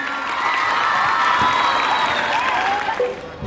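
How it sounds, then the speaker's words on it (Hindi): School audience at an Independence Day program applauding and cheering, continuous loud clapping with shouts and whoops from children, a few whistle-like tones gliding over the crowd. "एक बार पुनः जोरदार तालियों से इनका स्वागत करें।"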